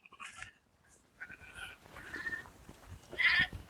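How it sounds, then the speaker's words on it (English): Sheep on an off-grid farm bleat in a few short calls, a couple of them louder and nearer toward the end, over faint outdoor background. "Hey, sheep. Come on."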